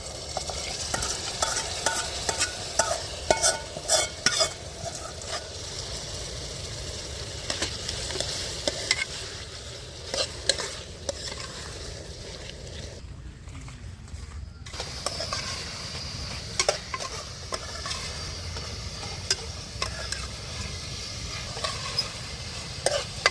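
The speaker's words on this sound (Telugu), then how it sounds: "ముందుగా ఉడకబెట్టి పెట్టుకున్న చికెన్ని వేసుకొని బాగా కలియబెట్టుకోవాలి" Boiled chicken stirred into ginger-garlic paste in a kadai for an Andhra chicken fry: repeated close scraping and clattering strokes over a low background sizzle, with one brief near-silent gap partway through.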